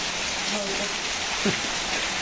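Rain comes down steadily around a house at the onset of the season, a dense, even wash of drops, with faint voices briefly murmuring underneath.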